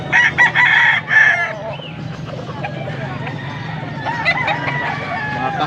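Several roosters crow loudly and repeatedly at a fighting-cock sale in Pampanga, with clucking fowl and a faint clip-clop-like clatter in a busy outdoor setting while people talk nearby.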